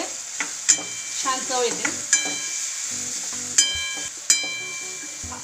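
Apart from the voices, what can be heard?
stirring coriander seeds frying in tempering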